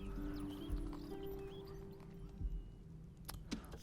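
Cavalry horse hooves in the video game Total War: Rome Remastered clip-clop in a few soft, scattered steps over a low ambient hum, faint and somewhat distant.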